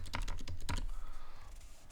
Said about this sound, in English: if I go in here and type in driver